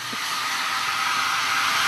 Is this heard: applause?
no